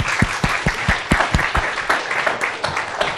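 Audience at a talk on consumer experiences and information architecture claps steadily in a hall, a dense patter of hands with a few sharper nearby claps standing out, fairly loud and continuous.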